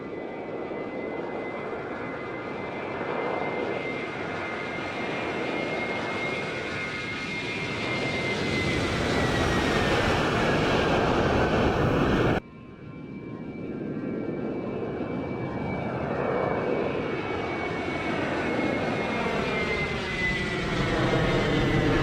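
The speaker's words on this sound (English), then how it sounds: "we hear of a preview of some new sound effects for the 757" A Boeing 757 airliner in Microsoft Flight Simulator with Boris Audio Works sound effects: a loud, continuous jet engine roar with a high whine, briefly cut and resuming, steady throughout with no talking.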